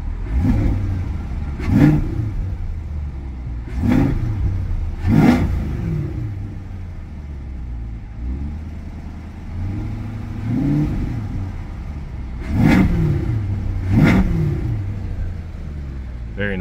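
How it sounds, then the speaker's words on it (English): A 2021 Chevrolet Corvette Stingray 2LT engine is revved in several sharp bursts, each rising roar dropping back to a throaty idle, heard close up with someone talking between and over the revs. "let's go and give it a couple of revs"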